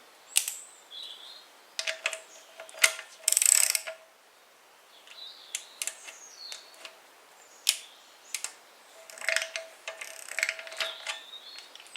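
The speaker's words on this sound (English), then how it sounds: "So you pop that on the nut and you take your socket thing" A socket wrench ratchets a 5/8-inch nut on a log splitter in short bursts of clicking with pauses between them, fairly quiet, with faint bird chirps in the background.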